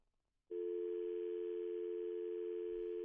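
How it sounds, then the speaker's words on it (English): A steady telephone dial tone begins abruptly after a near-silent moment and holds unbroken and fairly loud once a phone caller drops off the line. "Did I just lose a connection with Earl?"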